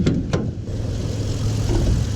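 A police car's cold L77 V8 engine with 82,000 miles turns over and settles into a steady, close, low idle rumble that runs throughout with no talking.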